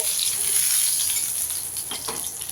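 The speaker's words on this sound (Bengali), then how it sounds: "একটু গ্যাস কমিয়ে লাল লাল করে ভেজে নিতে হবে" Food fries steadily in a pan over lowered gas heat for a Mocha Sundari recipe, a continuous close hiss and sizzle with faint stirring.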